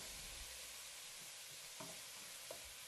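Onion and red pepper fry in sunflower oil in a hot pan, a steady, soft, continuous sizzle with a few faint stirring clicks.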